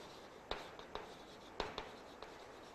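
Chalk or marker strokes write the chemical symbol for calcium on a board: a handful of short, quiet scratches and taps in small bursts against a faint background.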